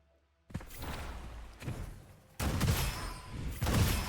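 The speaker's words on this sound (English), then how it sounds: "I'm gonna shoot this a couple more times, see what we get." Shotgun blasts from a video game, fired in quick succession: a sharp report with a muffled low boom, then two closer, heavier bursts, with no talking.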